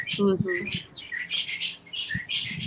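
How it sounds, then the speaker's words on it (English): Birds chirp and tweet in bright, repeated bursts nearby at a safari camp in South Africa, with a few short squawks mixed in and a faint voice underneath. "Oh, and we hear the birds in the background."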